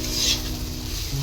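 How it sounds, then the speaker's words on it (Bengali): Beans and potatoes fry in a pan at home with a continuous soft sizzle and faint stirring, heard close and alone. "তো এখানে বিন আলু ভাজছি"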